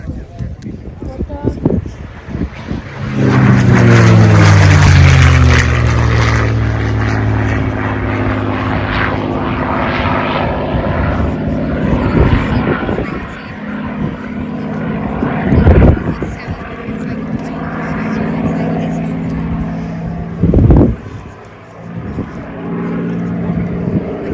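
A P-51 Mustang fitted with a Rolls-Royce Merlin engine roars loudly as it passes close by at a WWII air show, its deep propeller drone swelling then easing into a steady rumble, with crowd voices audible underneath.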